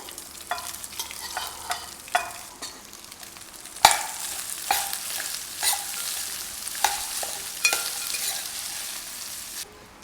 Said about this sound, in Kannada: ಒಗ್ಗರಣೆ ರೆಡಿಯಾಗಿದೆ. ಈಗ ನಾವು ಮಾಡಿಟ್ಟಿರೋ ಅನ್ನವನ್ನು ಹಾಕಿ ನೆಕ್ಸ್ಟು ಮಾವಿನಕಾಯಿ ತುರಿಯನ್ನು ಹಾಕಬೇಕಾಗತ್ತೆ.